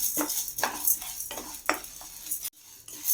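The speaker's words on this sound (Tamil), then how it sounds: "1/2 கப்பு கடலைப்பருப்பு, 1/2 கப்பு உளுந்து கொஞ்சம் வறுபடட்டும்." Chana dal and urad dal dry-roasting in a pan, with repeated scraping and stirring strokes of a spoon against the metal and a faint dry rustle of the lentils, close and fairly steady.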